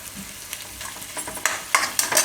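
A spoon scrapes and stirs through a spice mix sizzling in a pan, soft frying hiss with irregular clinks growing louder toward the end.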